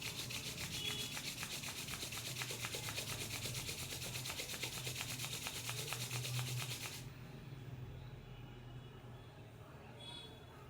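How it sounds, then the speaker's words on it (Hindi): Hands rubbing together during a Reiki meditation, a steady close dry friction lasting several seconds before easing off, with no talk over it. "एक बार पुनः हाथों को रगड़ते हुए"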